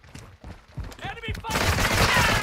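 Gunfire in a shooter video game: scattered shots under radio-style speech, then a loud sustained burst of automatic fire over the last second.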